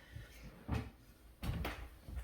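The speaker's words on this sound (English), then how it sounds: "Squeaky chair." A squeaky chair gives a few faint creaks and groans in short bursts, quiet and close, with no talk.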